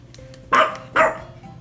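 Inside a flower shop, a dog barks twice, two sharp, fairly loud, close barks about half a second apart over a quiet background hum.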